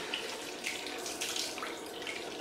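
A water tap running into a sink for a cold rinse after a shave, a steady soft rushing splash at low level with faint irregular spatter, heard alone without talk.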